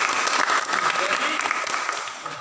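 A classroom group claps together, a brief burst of fairly close applause that gradually tapers off, with voices mixed in underneath.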